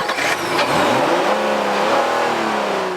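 A Honda Pilot's V6 engine accelerates hard, its pitch climbing steadily as it revs up, loud and close with no talking.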